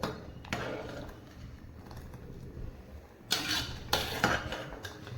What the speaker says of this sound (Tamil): இப்படி கிளறி விட்டுட்டு தான் இருக்கணும் இந்த மாதிரி வேகும்போது